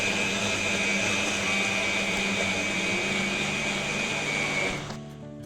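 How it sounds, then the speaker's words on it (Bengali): An electric blender grinds chopped ginger with a little water in its jug, giving a loud, steady high-pitched whir that runs for about five seconds before it winds down and stops. "এখন মেশিনটা অন করে দিছি, তো ব্লেন্ডার হচ্ছে।"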